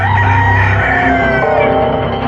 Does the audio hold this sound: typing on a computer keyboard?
no